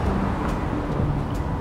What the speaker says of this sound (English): there's cars going past, and they're making noise